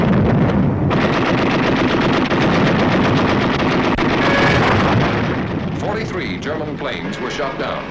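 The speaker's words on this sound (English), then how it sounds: "Over all these targets, flak was intense and accurate." Dense, rapid bursts of heavy 1944 anti-aircraft flak pound continuously, loud and rumbling, with wind buffeting the microphone and a faint voice near the end.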